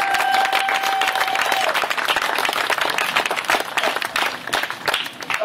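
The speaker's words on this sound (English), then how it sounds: "Applaud these people. Applaud those people." Sustained applause and clapping from an audience at a Renaissance festival poetry stage show, dense and continuous throughout, fairly loud with a brief whistle near the start.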